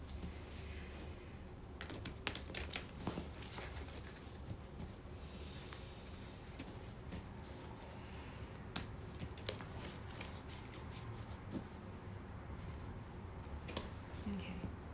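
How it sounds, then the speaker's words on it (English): Tarot cards are shuffled by hand, a run of quick crisp riffling clicks and flutters in bursts, quiet and close, over a low background hum. "I'm gonna shuffle."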